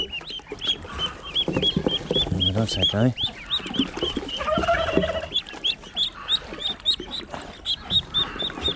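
Ducklings having their first bath, a dense run of high, rapid peeping calls with splashing and handling noises. A person speaks briefly now and then.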